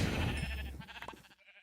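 A sheep bleats once in modded Minecraft, a short, close wavering cry that fades out within about a second.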